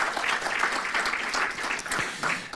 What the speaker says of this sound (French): Vous pouvez aussi tous les applaudir pour cette coopération.